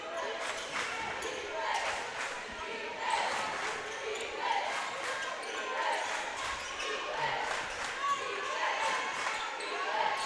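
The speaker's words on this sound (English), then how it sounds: "Chieftain crowd starting to get loud, rallying around their defense" A home crowd at a high school basketball game in a gym growing loud as it cheers on the defense, a sustained roar with sneaker squeaks and ball bounces, under a commentator's voice.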